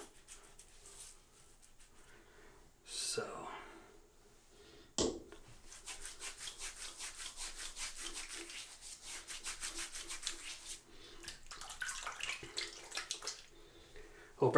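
A shaving brush is worked briskly across soap, making a steady wet, rhythmic swishing and rubbing that runs for several seconds after some earlier handling sounds.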